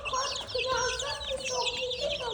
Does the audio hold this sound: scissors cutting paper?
no